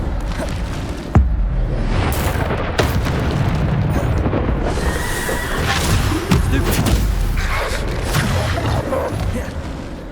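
Repeated Bombarda explosion spells in the video game Hogwarts Legacy boom and burst amid whooshing spell casts and clanking, a dense, loud, continuous combat barrage with sharp blasts recurring every second or two.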